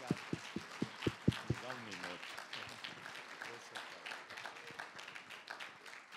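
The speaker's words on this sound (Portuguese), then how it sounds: "eu pediria, gentilmente, que vocês dessem uma salva de palmas a toda essa equipe" An audience applauds hotel staff and translators at a panel session, starting with a few sharp, spaced claps that build into faint, scattered clapping under a murmur of voices.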